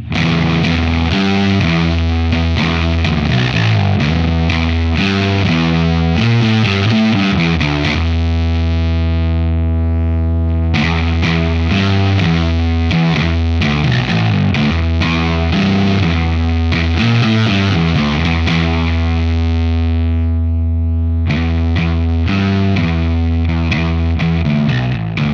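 Electric guitar driven through a Farm Pedals Spirit Animal distortion pedal, playing a continuous loud riff of chugging chords and sustained notes with a thick, saturated tone, no talking throughout.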